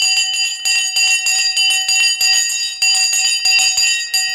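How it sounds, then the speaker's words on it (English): Stock exchange opening bell ringing steadily for over four seconds, a loud, sustained metallic clang with rapid repeated strikes and bright ringing overtones, heard alone without talk. "All right, the bell has now gone."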